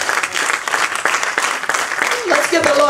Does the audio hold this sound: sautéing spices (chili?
no